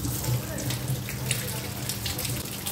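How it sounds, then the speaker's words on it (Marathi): Tap water runs steadily into a sink as raw green mangoes are rinsed one by one, with faint splashing and handling noises up close. "सर्व एक एक करून मी छान धुवून घेते"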